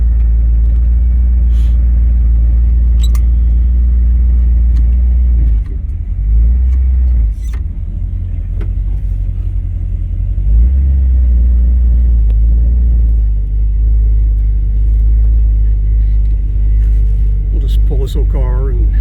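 An old car with a factory ignition setup idles and pulls out onto the road, its engine a steady deep rumble with brief revs and dips, while someone talks over it.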